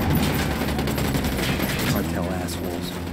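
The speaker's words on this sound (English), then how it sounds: "Open fire." Gunfire in Tom Clancy's Ghost Recon Wildlands, a dense continuous fusillade of shots under and around voices talking throughout.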